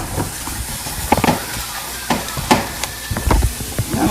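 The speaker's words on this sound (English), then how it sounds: "It's starting to sizzle too." Ground turkey frying in a pan with a soft, steady sizzle and hiss, broken by scraping and stirring clatters from a utensil, up close.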